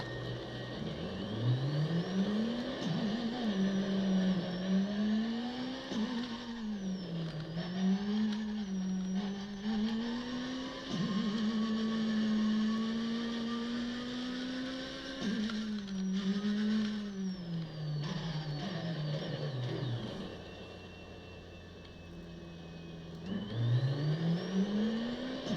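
A car in the in-development video game Shakedown drives and revs, its engine pitch climbing and falling in repeated rising sweeps, steady and fairly loud throughout with a brief lull near the end before revving again.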